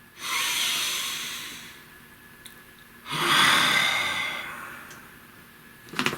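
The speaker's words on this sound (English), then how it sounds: "Take a nice deep breath." Two slow, deep breaths are heard close up, each a long airy inhale or exhale, separated by a quiet pause, with a faint click at the end.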